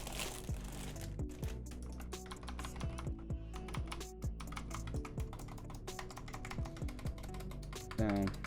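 Typing on a Razer Huntsman Mini 60% keyboard with clicky optical switches makes rapid, crisp clicks in quick irregular bursts, close and fairly quiet, over a faint background hum.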